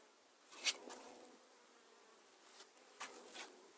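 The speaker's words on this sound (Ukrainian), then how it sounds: "І отак бджілки на них літають." Honey bees buzz around small flowers, a few brief passes flying close by at a distance from each other, faint against a quiet outdoor background with gaps between them.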